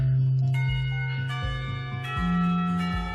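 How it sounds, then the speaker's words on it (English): A school bell rings in the visual novel Katawa Shoujo, a sustained tonal chime with several struck notes over a low steady drone, loud and close with no voices. "I actually jumped a little from that bell."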